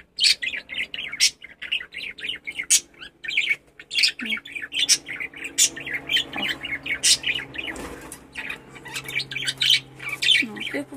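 Pet budgerigars, cockatiels and rosellas chirp and squawk close by in rapid, overlapping bursts, with a few sharper squawks and brief wing flutters.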